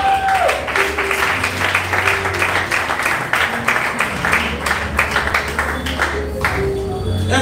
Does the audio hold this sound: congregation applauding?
yes